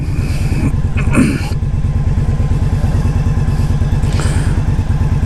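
A motorcycle engine runs loud and close throughout, a steady throbbing rumble as the ride begins, with a brief rise in revs and some rattling over the engine note.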